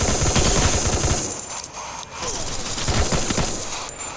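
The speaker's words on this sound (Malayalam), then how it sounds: "ആ വെടി വെക്ക്." Rapid automatic gunfire from a video game, loud and dense in the opening second, easing briefly, then returning as steady bursts of shots to the end.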